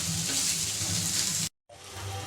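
Onion sizzles steadily in a little hot oil in a pan, a bright continuous frying hiss cooking for crab curry, broken by a brief moment of silence before the sizzle resumes.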